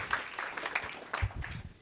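Scattered clapping rises from the congregation at a memorial service and candle lighting for an archbishop, soft and somewhat distant, with a few sharper claps near the end.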